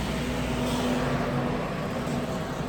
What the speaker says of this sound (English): And here comes a big bus,